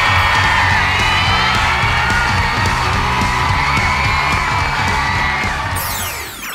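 Loud, dense crowd noise from a Thai TV game show studio audience, with whoops, yells and cheering layered over clapping throughout, fading slightly at the end.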